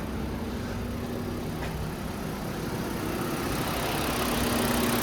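An MK6 Jetta 2.5 engine idles steadily up close, a constant mid-pitched hum with a faint, even ticking from the fuel injectors woven through it.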